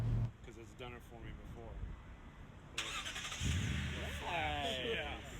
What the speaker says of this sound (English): here's the owner of the truck showing us the factory remote start option